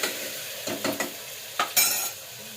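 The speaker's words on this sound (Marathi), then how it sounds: "इथे लसूण टमाटा चांगला गाळ होईपर्यंत परतून घ्यायचं" Garlic and tomato sauté in a pan, a soft steady sizzle broken by a few short scraping stirs, close and fairly loud, no voices.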